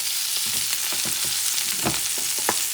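Spiced blackened rainbow trout fries in a hot pan, a continuous near sizzle with soft crackles and a few stirring scrapes, no speech.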